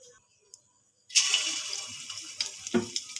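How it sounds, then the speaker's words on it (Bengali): Chicken pakoras drop into hot oil over a low gas flame, setting off a sudden loud bubbling sizzle that continues with crackling pops after a quiet start. "তেলটা গরম হয়ে গেছে আর আমি গ্যাসটা একদম কমিয়ে দিয়েছি এবার পকোড়াগুলো ভেজে নেবো"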